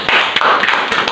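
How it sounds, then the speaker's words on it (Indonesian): Short burst of classroom applause for a student, a quick patter of hand claps from several people, close and loud, lasting about a second. "Beri aplaus ke Hanifah"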